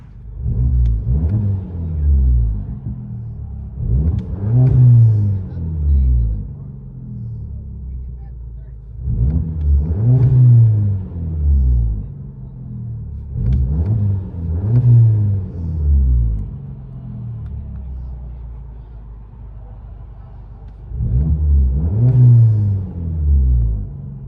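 A straight-piped 2016 Volkswagen CC 2.0-litre turbo engine revs in four repeated bursts against a rev limiter, each rising and falling, with a steady rumbling idle between them, loud and close.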